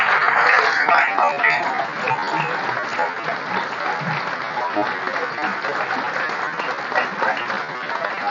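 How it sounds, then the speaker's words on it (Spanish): Sustained, dense applause from an indoor audience at a cultural ceremony in Buenos Aires's Palacio Barolo honoring a visiting Guaraní artistic delegation, loud at first and easing slightly, steady throughout with crowd noise mixed in. "¡Fuerte ese aplauso!"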